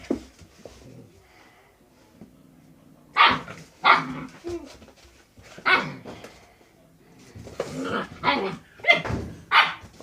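A puppy barks and yips in a series of sharp, fairly close bursts, a few spaced apart early on and then a quicker cluster of barks toward the end.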